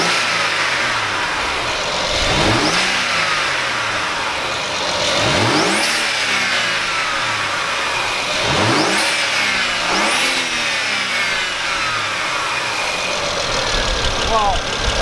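BMW 335i fitted with a RamAir intake filter, revving hard in repeated loud bursts roughly every few seconds, each climbing and falling back to idle, with people talking over it.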